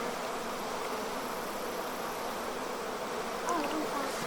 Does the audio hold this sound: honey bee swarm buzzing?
yes